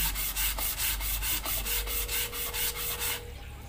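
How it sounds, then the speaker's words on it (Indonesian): Sandpaper is rubbed back and forth over the surface of a Honda Vario radiator in quick, steady strokes, about four per second. The rasping is close and even, then stops near the end. "amplas terus sampai ketemu sekiranya permukaannya bisa terkena amplas semua"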